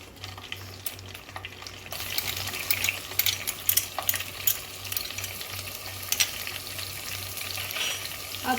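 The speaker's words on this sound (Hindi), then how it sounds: "ये आप देख सकते हैं अदरक लहसुन का पेस्ट इसमें अच्छे से भून चुका है" Ginger garlic paste frying in a pan for a chicken and hotdog biryani, a steady sizzle with occasional stirring scrapes and crackles running throughout, close and moderately loud with no talking.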